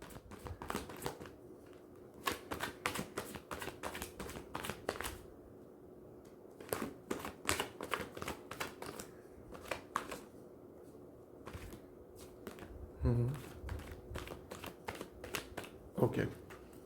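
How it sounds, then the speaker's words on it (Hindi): Tarot cards are shuffled in quick, repeated riffling bursts with short pauses between, close and crisp, while a voice speaks intermittently. "जब मैं कार्ड शफल करूंगा"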